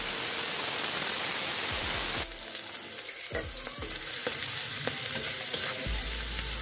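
Chopped onions sizzle with salt in a pan for a rohu fish curry: a steady hiss that breaks off, then softer frying with scattered clinks of a spatula stirring, close by and alone.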